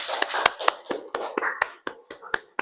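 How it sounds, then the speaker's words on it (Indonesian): Classroom students clapping, a sparse scattering of individual hand claps at close range in an uneven rhythm, with faint voices underneath. "Tepuk tangan semuanya."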